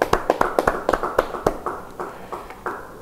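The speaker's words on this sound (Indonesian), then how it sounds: "Yang percaya, beri tepuk tangan bagi dia." Clapping from a church congregation at a Bible study, a sparse scattering of distinct, sharp hand claps in an uneven rhythm, fairly faint and thinning out toward the end.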